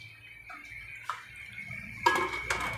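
A lid set onto a cooking pot of vegetables for fresh lumpia, giving a sharp metallic clank near the end after faint kitchen rustles, close and clear.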